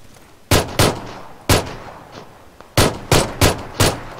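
Pistol shots in PUBG ring out as seven sharp, loud single cracks, spaced irregularly with brief pauses between them, alone without talk.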